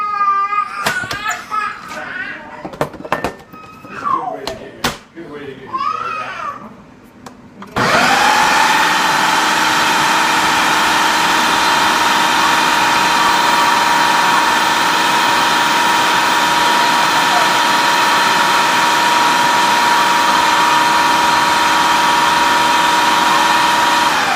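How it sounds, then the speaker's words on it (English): A blender whirs steadily and loudly through black bean brownie batter, starting abruptly after several seconds of children's voices and holding an even, continuous drone to the end. "I'm going to kind of blend them up with it."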